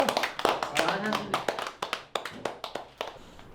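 A small group claps for a finished painting with added brush calligraphy: a run of sharp, close, uneven hand claps that thins out toward the end, with people talking over it.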